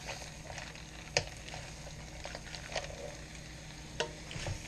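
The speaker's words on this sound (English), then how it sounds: "Now we're just going to let this cook till they get warm." Coated vegetables for Singapore chilli crab sizzle in a pan, a continuous fry broken by a few sharp clicks and taps of utensils against the pan.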